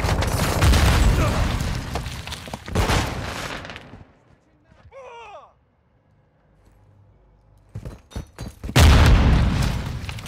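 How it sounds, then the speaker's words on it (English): Grenade explosions in Call of Duty: Modern Warfare II, heavy booming blasts with gunfire at the start and again near the end, separated by a quieter stretch with a brief voice. "Grenade out!"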